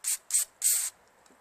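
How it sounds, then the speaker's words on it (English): Carb cleaner sprayed onto the carburetor of a Tecumseh 13HP Snow King snowblower in three short hissing bursts, close and crisp, with the last blast lasting longest. "blast it with some carb cleaner"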